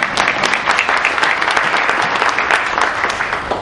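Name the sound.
audience clapping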